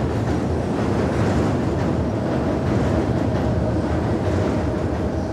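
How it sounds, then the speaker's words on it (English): A loud, steady rumble and roar of an elevated train passing overhead, heard from beneath the line above Frankfort Avenue, continuous and dense throughout with no voices. "here we are under the elevated train line above Frankfort Avenue."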